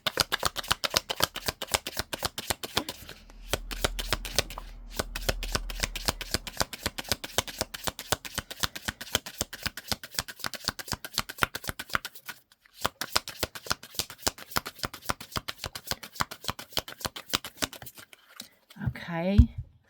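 Playing cards are shuffled and handled close up, a rapid series of crisp flicks and riffles running almost continuously with two brief pauses, a low murmur underneath and a final rustle at the end.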